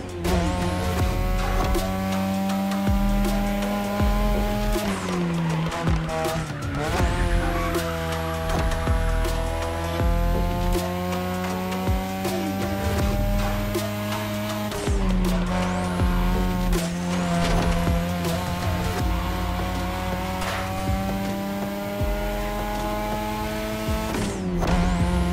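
A racing car in the video game The Crew Motorfest, on a Japanese touge street-racing course, revs hard and shifts through gears with a loud engine whine, rising and falling repeatedly with a few tire squeals.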